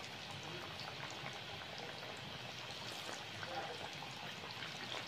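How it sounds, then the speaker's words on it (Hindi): Pakoras bubble and hiss steadily while deep frying in ghee, a constant low frying noise that carries on without a break. "अब ये मैं दोबारा इसके अंदर डाल रही हूँ घी में"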